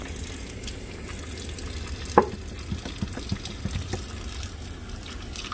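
A surgical instrument is rinsed under warm running tap water during cleaning, giving a steady close hiss of flowing water with a few sharper splashes and clinks scattered through, and no speech.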